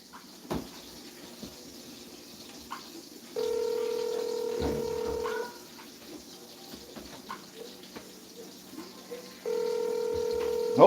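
Telephone ringback tones sound twice in a long steady beep pattern over a quiet line, with faint background noise between rings.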